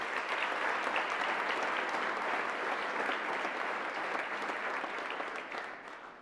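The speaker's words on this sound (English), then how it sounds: "Let's give them a round of applause for their hard work." A banquet hall crowd at a university honors banquet claps steadily for about six seconds, a dense even wash of applause that tapers off at the end with no talking over it.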